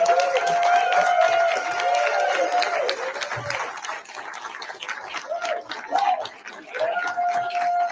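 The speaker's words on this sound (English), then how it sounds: "I think we owe him a huge round of applause for all the work he's done." Applause at a state Libertarian Party of New Hampshire meeting, a round of clapping with crowd murmur, voices and tonal sounds heard over it, fading and rising across the span.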